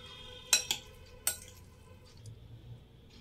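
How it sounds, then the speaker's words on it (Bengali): A spoon mixes salt into soaked sabudana (tapioca pearls) in a bowl, with a few sharp metallic clinks early on followed by quieter, soft stirring. "আন্দাজ মতো লবণ দিয়ে দেব, দিয়ে ভালোভাবে মিশিয়ে নেব।"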